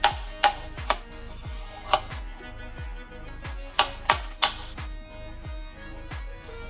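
A knife chops cucumbers on a cutting board, with sharp, close thuds in an uneven rhythm, roughly a dozen distinct hits with short pauses between them.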